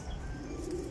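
A domestic flying pigeon coos softly close by in a short, low, throaty burst, with a faint chirp-like edge and no talking.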